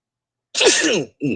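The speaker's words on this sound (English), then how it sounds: "I had to sneeze" A single close, sharp sneeze bursting out of silence, followed a moment later by a shorter breathy exhale or sniff.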